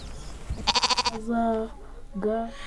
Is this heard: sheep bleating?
yes